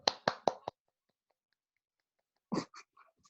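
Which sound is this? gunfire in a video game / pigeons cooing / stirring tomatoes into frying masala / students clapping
students clapping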